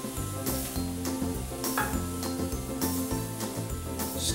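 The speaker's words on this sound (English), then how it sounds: "We'll just stir this in." A flour and butter mixture gets stirred into turkey pot pie filling in a pot, a busy bubbling sizzle broken by repeated clinks and scrapes of a utensil in a regular rhythm.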